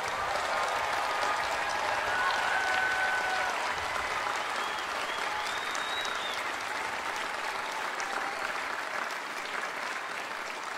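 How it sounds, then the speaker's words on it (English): Sustained applause from a large graduation-ceremony audience honoring new alumni at a college diploma ceremony, a dense, steady wash of clapping lasting the whole stretch with faint whistles and cheers mixed in. "Let us once again applaud our newest alumni."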